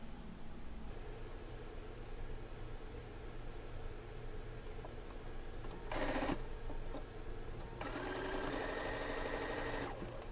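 A sewing machine joins quilt block pieces in two short bursts of rapid stitching, close by, with quiet handling sounds and a low steady hum between runs.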